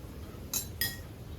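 Two bright clinks of cutlery against dishes ring out in quick succession over a quiet room as a table is set for a home-cooked lunch.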